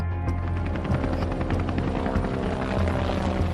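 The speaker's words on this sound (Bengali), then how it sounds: "আকাশে গর্জে ওঠে ইঞ্জিনের শব্দ" Three heavy black helicopters circle overhead, roaring loudly and continuously, rotors thumping rhythmically beneath a heavy engine drone, close and overwhelming, with no voices.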